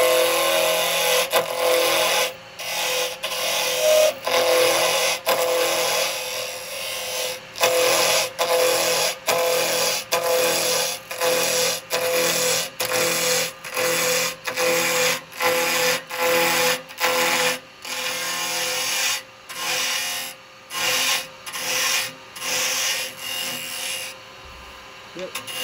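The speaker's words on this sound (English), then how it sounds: "I'm just going to use a little square chisel." A small square carbide chisel cutting wood on a lathe while turning a Christmas nutcracker, giving a steady scraping hiss broken into many short rhythmic passes, close and fairly loud.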